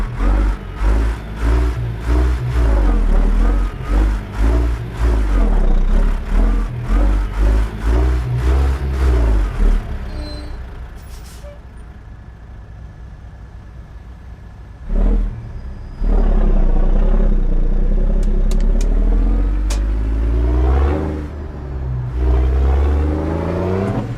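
A Peterbilt 389 truck in a driving game, fitted with a modded 14-litre Detroit engine, revs and pulls hard with a loud, steady drone that climbs through the gears. The engine eases off briefly, then roars back up again, and no one speaks.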